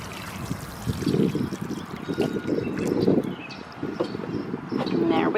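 Seedlings in garden pots get a good drink of water, a steady trickling and splashing pour running throughout at close range with gentle swells in flow.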